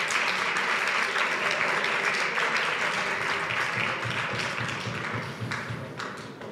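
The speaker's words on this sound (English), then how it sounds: "Go ahead, applaud yourselves." Yeshiva University students applaud at an evening talk in Crown Heights, a full, steady burst of clapping close and loud that slowly tapers near the end.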